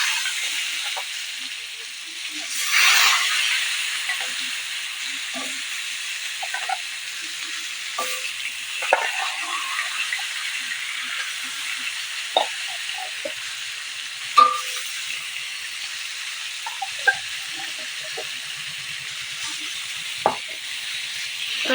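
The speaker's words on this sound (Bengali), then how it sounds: "এবার একে একে আমি মাছগুলোকে তেলের ভিতর দিয়ে দেবো। দিয়ে মাছগুলোকে ভালো করে ভেজে নেব।" Pieces of stingray fish sizzle steadily in hot mustard oil in a pan, a continuous frying hiss broken by scattered pops and occasional soft utensil clinks.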